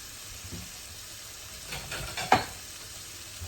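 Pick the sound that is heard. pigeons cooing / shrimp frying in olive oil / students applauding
shrimp frying in olive oil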